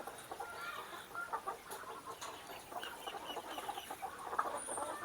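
Soft, continuous clucking from a group of free-range laying hens in galvanized battery cages, faint and somewhat distant, blending into a steady background murmur.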